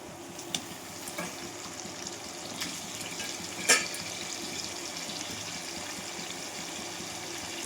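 Meat pieces added to a pan of oil-releasing fried masala and stirred, a steady low sizzle with scraping and a few sharp clinks of the spatula, no voices.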